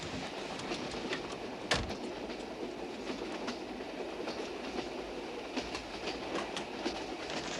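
A passenger train runs on its rails in The Lady Vanishes, a steady rumble with rhythmic clickety-clack and one sharp clank near the start, heard alone at moderate loudness.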